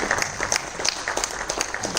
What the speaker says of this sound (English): can we clap a little bit louder?